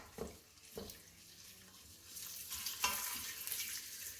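Sausage fries in an Instant Pot while a utensil breaks it up, giving a soft steady sizzle with a few scraping strokes, rising to a brighter, louder hiss in the second half.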